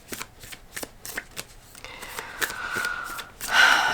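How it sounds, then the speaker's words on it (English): An Energy Archaeology oracle card deck is shuffled in quick riffling bursts, a series of short crisp flicks followed by a longer, louder sweep of cards near the end, close up with no talking. "I'm gonna pull cards from the Energy Archaeology deck."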